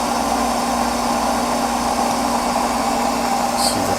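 An electric motor drawing 15 amps DC, running with a steady, droning hum and a faint high whine, constant and fairly loud from start to finish, with no talking.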